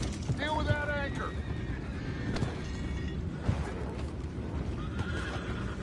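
Horses in Red Dead Redemption 2 neigh and whinny, with hooves clip-clopping beneath and game voices talking, amid a busy, noisy scene.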